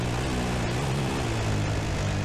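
A helicopter flies over a Dakar Desert Rally quad stage in the desert, a loud, steady rotor and engine drone that fills the whole stretch without pause and carries no speech.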